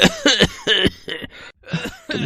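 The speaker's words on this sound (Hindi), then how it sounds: "सुबह जब उसकी नींद खुली तो वो जोर जोर से खांस रहा था।" A boy coughing loudly and repeatedly, several harsh close bursts in quick succession with short gaps, no talking.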